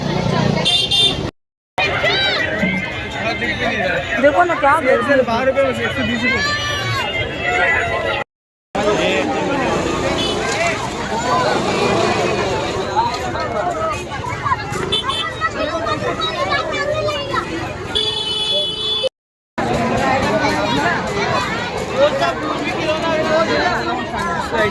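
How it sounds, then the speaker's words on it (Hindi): Dense crowd hubbub at the busy Malwani fair, with constant chatter, scattered car horns and traffic close by, and voices talking nearby over the din. "अबे बहुत भीड़ है।"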